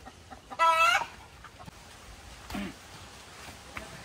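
Chicken vocalising nearby, a loud harmonic cackle or cluck burst near the start, then quieter scattered calls with farmyard background; a hen laying eggs after being fed a special feed.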